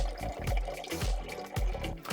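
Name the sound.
water pumping from RV smart faucet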